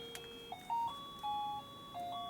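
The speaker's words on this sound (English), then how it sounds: "And that's the alarm going off." Short electronic alarm tones chime in a stepped sequence of beeps at different pitches, clear and fairly quiet, with no talking, in a radio studio.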